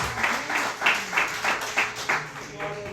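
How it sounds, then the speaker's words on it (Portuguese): A church congregation claps in a regular rhythmic beat, roughly two claps per second, moderately loud under a faint background murmur. "Dê uma salva de palmas a esse Deus."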